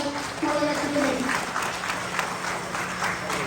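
Audience applause at an NTR 100th birthday celebration in Adelaide, a dense burst of clapping that holds steady for several seconds beneath a voice speaking over a microphone.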